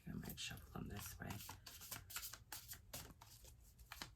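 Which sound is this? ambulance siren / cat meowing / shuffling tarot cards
shuffling tarot cards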